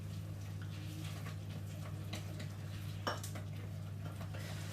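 A utensil scrapes and taps against a bowl while brown sugar is mixed into a melted mixture for peanut butter banana muffins, faint irregular clinks over a steady low kitchen hum, one sharper knock near the end.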